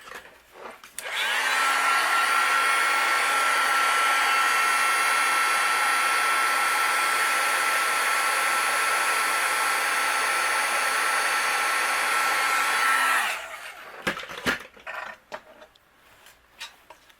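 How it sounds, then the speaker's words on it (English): Heat gun melting embossing powder on a greeting card, a steady, loud blowing hum with a faint whistle that runs for about twelve seconds and then cuts off, followed by a few light clicks. "And then I will melt it with my heat gun."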